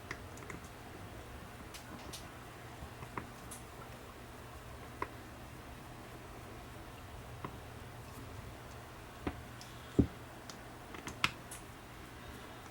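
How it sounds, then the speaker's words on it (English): Screws are removed from a Ubiquiti security camera, faint sparse clicks and ticks of a screwdriver over a quiet low hum, with a few sharper taps near the end. "now I'm going to open up these screws"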